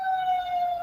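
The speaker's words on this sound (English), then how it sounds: "I don't know if you can hear the sirens" Emergency vehicle siren wailing steadily outside in Washington, DC, a sustained tone holding for the whole moment, moderately loud and somewhat distant.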